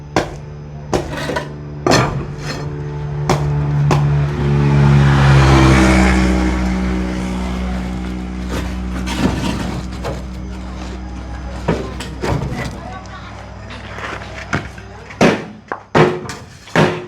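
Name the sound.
hammering nails into wood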